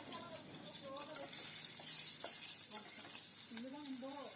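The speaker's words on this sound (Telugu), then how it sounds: "ఆయిల్ వేడెక్కిన తర్వాత పొడుగ్గా కట్ చేసుకున్న పచ్చిమిర్చి వేసుకొని ఫ్రై చేసుకోవాలి" Sliced green chillies frying in hot oil in a pan, a faint steady sizzle and hiss with a speaking voice over it and occasional stirring.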